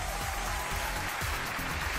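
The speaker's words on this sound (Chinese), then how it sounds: "掌声有请这一对" A studio audience on a Chinese relationship talk show claps to welcome a couple onto the stage: dense, continuous applause, loud and close, with no voices over it.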